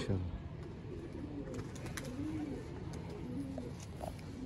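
Pigeons kept in a fancier's loft coo in soft, rolling low calls that recur across the span, mixed with faint background noise and no clear talk.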